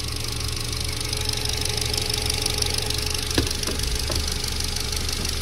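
An Audi engine runs in a repair shop after being started during cooling-system bleeding with a new coolant hose fitted. It makes a steady, close idling drone with a few sharp knocks partway through.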